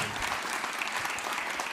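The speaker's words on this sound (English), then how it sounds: "round of applause, yeah, please," Sustained applause from a concert audience at a hosted event, a dense, even roar of many hands clapping at moderate volume with no break, heard from within the room.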